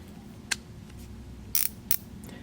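An old Craftsman socket is driven by a quarter-inch drive flex-head ratchet, giving a few sharp, separate clicks, one alone and then a quick cluster, close and clear against a quiet room.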